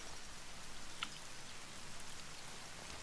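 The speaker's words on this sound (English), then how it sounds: "Oh, yes, it's raining." Steady rain falls in the survival video game The Forest, a constant, even hiss of rain with one brief drop-like tick. No voices are heard.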